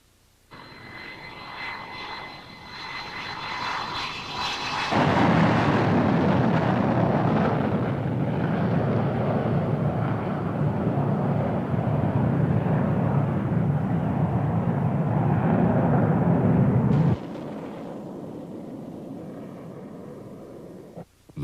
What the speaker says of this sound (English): The two sets of aircraft approached each other at high speed.